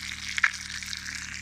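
Freshly caught grayling fries in a second pan on an autumn fishing trip, giving a steady, close hiss of sizzling oil with a brief sharper crackle partway through and no talking.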